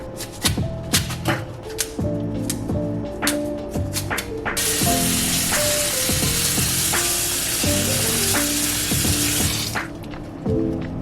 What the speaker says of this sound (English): I'm putting all of the kale that I peel off in a strainer, and then I'm gonna rinse it off so that it's clean